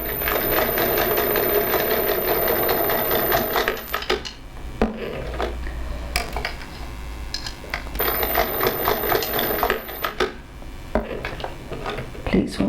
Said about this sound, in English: I'm going to sew up to my pleats